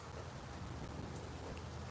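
Rain falls steadily in a brief, faint, even hiss of drops on surfaces, with no voices.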